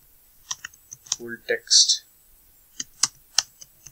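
Keystrokes on a computer keyboard as a file name is typed, a handful of separate clicks and short bursts spaced out over a few seconds, close by, with a person talking through part of it.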